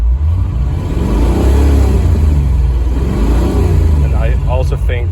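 A Chevy V8 swapped into a Range Rover Classic runs with a deep, loud, steady engine rumble and a rising rev that fills the whole stretch.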